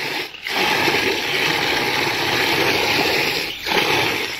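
Water gushes steadily into a tank through a float valve on a farm animal watering setup, a continuous near rushing fill with brief dips at the start and near the end.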